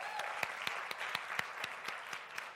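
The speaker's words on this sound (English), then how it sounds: "Can we also clap for them as well?" At a summit panel session, a modest audience claps in a steady patter of individual hand claps with a few sharper strikes standing out, fairly soft and sustained.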